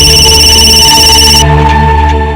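A telephone rings loudly and close by in a crime drama scene. The electronic ringtone is bright and continuous, and its high upper tones cut out partway through while the lower ring carries on.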